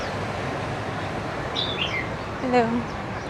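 Several short chirps and tweets from caged pigeons and small birds rise above a steady background hum of voices and room noise in a café with a mini-zoo in Vietnam, moderately close.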